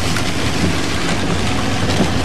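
A vehicle ploughs through floodwater on a road, throwing up a loud, steady, rushing roar of splashing water that fills the whole moment without a break.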